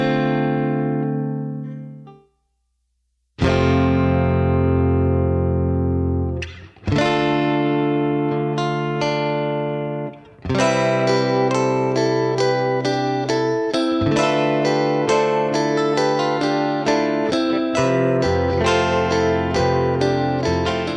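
A rock track with a rhythm guitar and two lead guitars, distorted and washed in Universal Audio Pure Plate reverb, starting with a held chord, then a short break, then a full strummed section.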